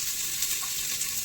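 Onions dropped into hot oil with browned cumin seeds, giving a continuous close frying hiss and sizzle, steady and even for a brief moment with no voices.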